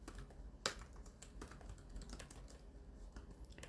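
Computer keyboard keys tapped while entering Python code, quiet and close, an irregular patter of soft clicks with one sharper keystroke near the start.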